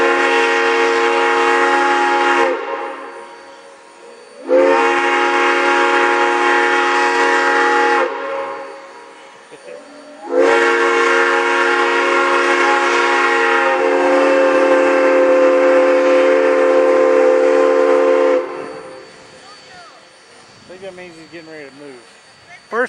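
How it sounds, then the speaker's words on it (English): A steam locomotive sounds its whistle in three long, loud blasts of steady chime tone, the last held longest, with brief pauses between and faint talk after. "first thing he's going to do is blow his whistle"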